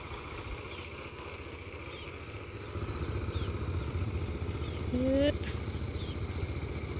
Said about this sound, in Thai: ก็สิมีเรือแลนไปแลนมา